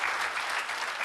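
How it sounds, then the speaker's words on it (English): A room full of people applauds two young boys, India's youngest CEOs, at a startup session: dense, steady clapping that stays loud and even for about a second, with no voices standing out. "Can we have a huge round of applause for these two young boys?"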